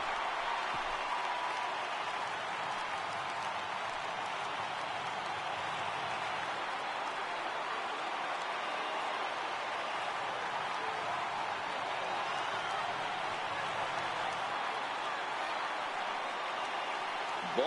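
A large stadium crowd of over 37,000 in an MLB The Show 18 baseball game, Boston Red Sox against Baltimore in the ninth inning, keeps up a steady, distant roar of cheering and applause throughout.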